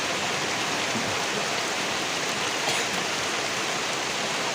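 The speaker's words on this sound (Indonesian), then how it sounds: "Hujan, Kek." Rain falls steadily as a dense, continuous hiss without pauses, fairly loud and close, with no other sounds standing out.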